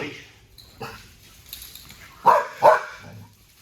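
A dog gives two sharp barks in quick succession during bite work training, fairly close and loud over a quiet background, with faint low noise before and after.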